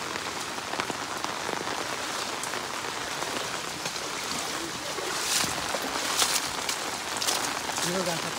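Heavy monsoon rain pours steadily in a rural Konkan village setting, a dense close hiss of drops on surfaces lasting throughout, with faint voices beneath it.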